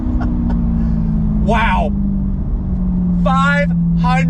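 Lingenfelter C8 Corvette with a 560-horsepower LT2 V8 pulling hard under acceleration, its loud engine tone sweeping steadily under a couple of excited shouts from people inside the car.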